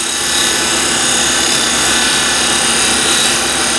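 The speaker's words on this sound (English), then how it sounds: "Shall switch to skew, and I can use the side of the skew" A skew chisel shears walnut spinning on a wood lathe, a steady, loud, continuous hissing scrape with the motor's hum beneath and no breaks.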